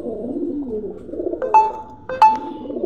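Pigeons cooing in soft, low repeated calls close by, with a couple of brighter chirps breaking through the murmur.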